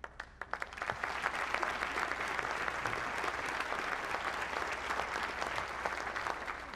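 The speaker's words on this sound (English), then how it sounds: "There's only two times where you can applause, and that's counting one." Audience applause at a 2016 Republican presidential candidates' forum, a dense, sustained wash of clapping from a large crowd that swells in after a few scattered claps and holds steady to the end.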